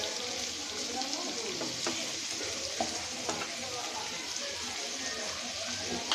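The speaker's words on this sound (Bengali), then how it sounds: "আলু দিয়ে দিল। এখন একটু নেড়ে নিব।" Potato pieces fry in a pan for a Bengali pabda fish curry with tomato. A continuous soft sizzle runs throughout, with occasional spoon-stirring clicks and scrapes.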